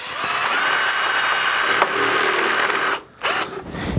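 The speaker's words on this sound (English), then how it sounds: "Sometimes to get everything lined up perfect, you need to bore this hole out as well." A power drill boring out a bolt hole through a pole while building a reggae runner, a continuous loud whirring grind that cuts off briefly near the end, restarts, then trails away.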